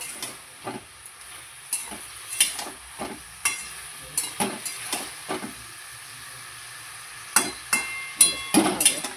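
Boiled vegetables being stirred in a pan after the lid comes off, with a spoon scraping and knocking in short irregular bursts over a soft background hiss, pausing briefly midway.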